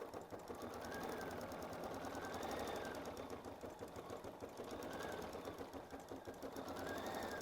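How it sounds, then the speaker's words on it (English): Embroidery machine stitching a tack-down line on fabric, a faint, steady mechanical chatter with rhythmic swells as the needle runs continuously. "Now it's doing that second line of tack down"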